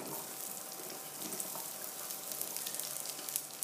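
Onion frying in hot ghee in a pan, a steady broadband sizzle with faint crackles that holds at an even level throughout, with no voices.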